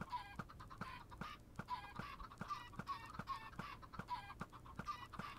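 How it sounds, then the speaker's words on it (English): Chickens in the Minecraft video game Vault Hunters, with repeated clucks at a steady, rhythmic pace alongside short sharp clicks, quiet and close with no talk. "Still gonna be a hell of a lot of chickens."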